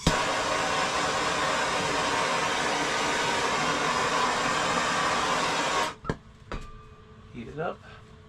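A heat gun blows loud, steady, breathy air while shrinking heat-shrink tubing over a crimped cable. After about six seconds it cuts off abruptly, leaving a few handling clicks and a brief voice.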